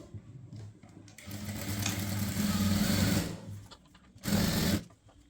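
Sewing machine stitching the side seam of an A-line kurti, a close mechanical whir running for about two seconds, a pause, then a shorter burst of stitching.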